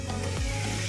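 Curry leaves and mint sizzle steadily in a hot pan, a close, even frying hiss with one brief stir or scrape midway and no talking.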